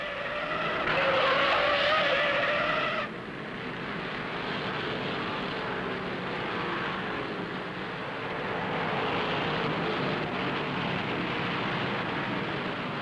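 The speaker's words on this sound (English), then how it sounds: "Rex White spins a number 1 turn, taking Roy Main with him" Vintage 1964 NASCAR stock cars at Atlanta Motor Speedway, two spinning out together in turn one, give a loud, steady engine roar with a brief high tire squeal early on, then continuous racing noise throughout.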